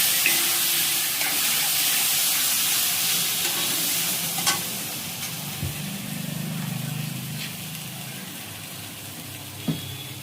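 Food being stirred and mixed in a pan on a gas stove, with a steady sizzle under occasional spoon scrapes and clinks, close and moderately loud.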